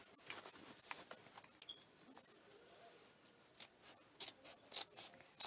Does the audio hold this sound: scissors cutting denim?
yes